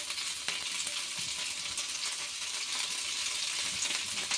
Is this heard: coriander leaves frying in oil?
yes